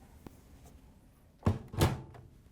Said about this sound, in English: we can close the washer door.